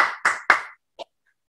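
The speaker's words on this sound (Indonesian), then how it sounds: "Tepuk tangan 3 kali." Three loud claps in quick succession from children at a Sunday school service, close and unaccompanied, then a short faint tap and silence.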